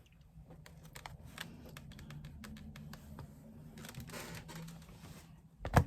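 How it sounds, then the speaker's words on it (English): The bottom seam of a clutch bag lining is picked open, producing a quiet, close series of small irregular clicks and thread snips, with a sharper tug at the very end. "So I'm just opening up that bottom seam."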